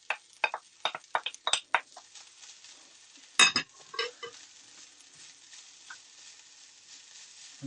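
Shallots, garlic and spring onions hit a pan with pork mince, giving bursts of crackling sizzle and clinking stirs, a busy cluster of sharp taps and scrapes, then a louder clatter before settling into quieter frying.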